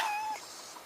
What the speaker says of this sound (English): And a cat.